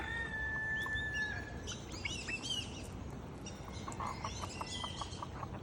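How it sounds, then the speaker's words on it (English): Birds chirp and tweet outdoors after rain near a flock of baby turkeys, with scattered high calls and short trills rising over a soft, steady background hiss, moderately distant. "All the birds after the rain."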